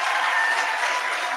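Dense applause from a school audience at a career day, a continuous wash of many hands clapping at close range, loud and unbroken.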